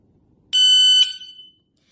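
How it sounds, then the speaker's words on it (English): An M1A2+ shot timer gives a bright electronic beep, two quick tones in succession, loud and clear against silence. "the timer will beep 3 times when it hits the last 60 seconds to remind"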